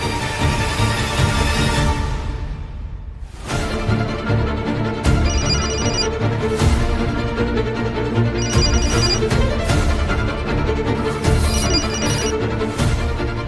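A phone rings in repeated short bursts during a call to a mother, heard over continuous background music with no talk.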